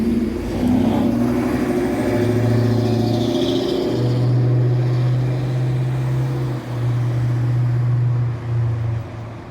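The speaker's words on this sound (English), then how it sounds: "we hear a delicious difference between a bus and a throaty muscle car" A bus and a throaty muscle car pass on a city street at night, a deep steady engine drone rising and holding close by, with a low rumbling hum sustained throughout and no voices.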